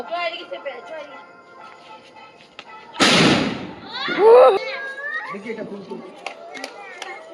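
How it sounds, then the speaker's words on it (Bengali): Firecrackers burst during a family Diwali celebration at home, one sharp loud bang followed by crackling and popping, with people chattering and calling out around it. "এখন চলে এসেছি বাজি পোড়াতে"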